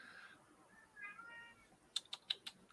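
A recently spayed female cat mews in a few soft, rising calls, then clicks and taps like typing on a keyboard follow in short sharp bursts nearby; the meows are fairly quiet and close.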